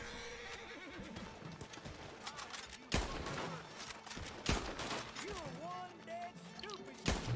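Enemy gunfire in Red Dead Redemption Online cracks out as a few scattered, fairly distant shots, mixed with horse whinnies and clip-clopping hooves nearby.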